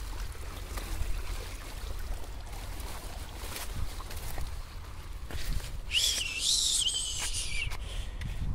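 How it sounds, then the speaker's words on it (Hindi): Water running through a pipe to irrigate cabbage and other garden plants, a steady low rushing and trickling outdoors, with a brief high whistle-like call rising above it toward the end. "और यहाँ से पाइप से होते हुए पानी जा रहा है"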